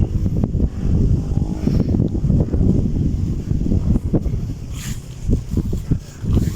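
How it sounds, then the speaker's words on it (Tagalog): Gusts of strong wind rush steadily across the microphone on a hilltop at Grace Hill, Binangonan, Philippines, a loud, rumbling blow that rises and dips without pause. "ang lakas pa ng hangin"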